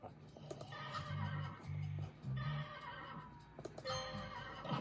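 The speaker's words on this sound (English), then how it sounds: "Horse." A horse neighs repeatedly in a video game puzzle about a snoring elephant, with whinnies rising and falling over several seconds alongside clip-clop hooves and other game sounds.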